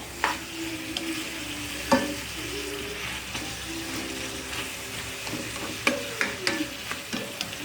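Food with oyster sauce sizzles steadily in a pan while a utensil stirs and scrapes through it, with sharp clinks against the metal at irregular intervals.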